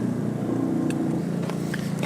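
A 2001 Honda Integra Type R engine idles high and steady, a continuous low droning hum with faint higher whines, loud and close, with no voices.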